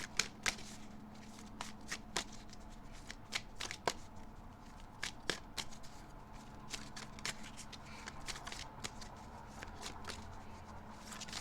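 Tarot cards being shuffled by hand, a steady run of crisp riffling snaps and soft slides over about eleven seconds, close and fairly quiet with no talking.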